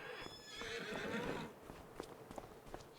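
Horses in Farming Simulator 25 on the Riverbend Springs map whinny loudly for about a second and a half, followed by several light, irregular hoof clops and soft stamping nearby.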